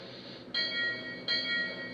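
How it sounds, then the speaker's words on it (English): A locomotive bell in a train simulator game on iPad rings in two repeated metallic strikes, each sustaining with bright overtones, over a steady engine rumble. "ring the bell"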